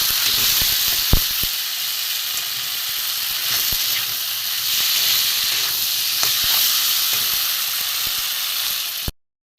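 Ground cumin paste sizzles loudly in a pan of rohu fish curry with taro and potato, a continuous close frying hiss with occasional sharp crackles and stirring clicks, ending abruptly, no talking.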